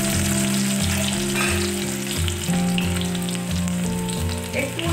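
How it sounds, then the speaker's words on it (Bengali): Crushed garlic frying in hot mustard oil gives a loud, dense, continuous sizzle close by, with a steady low hum running under it and no voices. "তো তেলটা গরম হয়ে গেছে, এর মধ্যে আমি দিয়ে দেবো থেঁতো করে রাখা রসুনগুলো"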